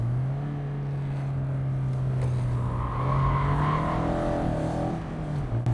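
Mazda MX-5 ND roadster being driven, a steady engine hum that rises slightly as it accelerates, with tire and road noise underneath.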